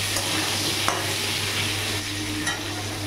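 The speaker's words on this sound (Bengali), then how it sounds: "এখানে আমি আলুটা ভেজে নিচ্ছি," Potatoes coated in salt and turmeric frying in oil on a gas stove, an even, continuous sizzle with occasional small pops and stirring, close and steady.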